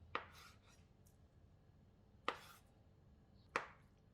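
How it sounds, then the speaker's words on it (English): Three crisp knife strokes cutting a block of tofu into bite-sized pieces on a board, each a sharp tap spaced a second or two apart, quiet and close with no talking. "cut the tofu into bite-sized pieces"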